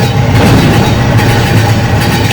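A train runs along rail tracks, a loud, steady, close rumble with a faint rhythmic clatter that holds throughout without pause.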